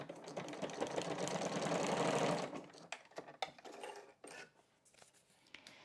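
A sewing machine runs stitches through overlapped scrapbook paper in a loud steady whir for about two seconds, then stops and gives a few shorter stitching bursts and clicks, close and with no speech.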